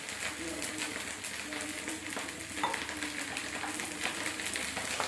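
Chopped okra (bendekayi) fries in a pan with a steady, soft sizzle and faint crackles throughout, fairly quiet and close, with no voices.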